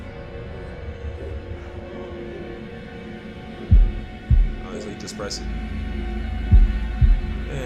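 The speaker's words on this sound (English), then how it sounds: "Oh, keep calm. That's the time with the heartbeat." A heartbeat effect from the horror video game Man of Medan: two pairs of deep, soft double thumps under a steady low hum, with a person talking over them.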